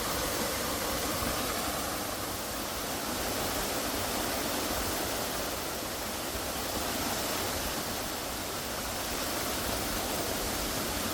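Yuam waterfall on a Jirisan mountain trail pours in a steady, loud, broadband roar of falling water, dense and continuous throughout with no talking.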